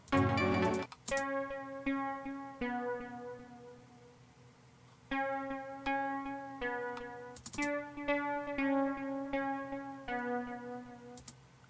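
Plucked string notes ring out in short repeating phrases with bright harmonics, sustaining between accents, played alone at moderate volume.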